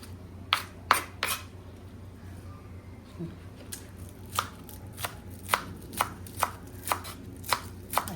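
Spring onion chopped with a knife on a board, a few quick crisp chops, a short pause, then a steady run of evenly spaced cuts, close and clear over quiet kitchen background.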